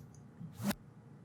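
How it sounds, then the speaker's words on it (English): A short reversed impact sample in a dubstep drum pattern swells quickly into a brief whooshing sweep-up, faint and isolated, cutting off abruptly after about a second. "this is just a really small little impact sample that is reversed to do that little sweep up"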